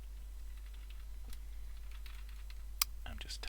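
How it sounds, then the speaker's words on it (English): Someone tapping on a computer keyboard while coding, scattered soft close clicks over a steady low hum, with one sharper tap and a quicker cluster of taps near the end. "I'm just tapping my keyboard"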